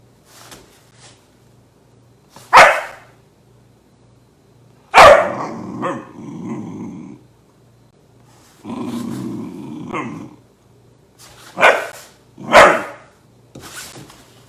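A puppy barks sharply in short separate bursts with low growling stretches between them, close and loud against a quiet indoor room with a faint steady hum.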